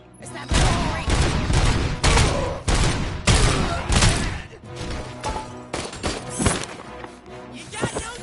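Heavy, rapid gunfire rattles through a firefight in Robocop: Rogue City, loud repeated bursts in quick succession with booming impacts, broken by short pauses and overlapping with excited speech.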